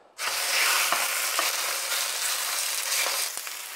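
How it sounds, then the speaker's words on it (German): Chicken pieces hitting hot oil in a pan, an abrupt onset of loud, steady sizzling and crackling that continues throughout, close up with no talk. "Und mein Hähnchen anbraten."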